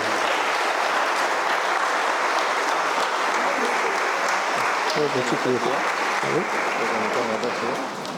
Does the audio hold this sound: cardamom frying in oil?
no